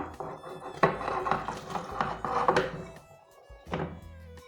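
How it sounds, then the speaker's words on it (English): Broccoli florets dropped into a pot of simmering soup: a series of dull thunks and clattering knocks against the pot, uneven in rhythm, close and fairly loud, with no talk. "We're now going to add the broccoli florets."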